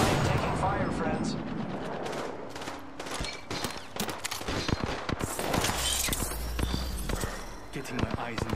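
Gunfire in the video game Apex Legends: repeated bursts of rapid automatic shots, some loud and near, others more distant, while players talk over the action.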